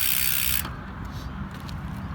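Novatec D042 SB rear hub freewheel on a Gios FRX 2019 mountain bike, a fast ratchet buzz up close that drops off quickly into a softer, slowing clicking.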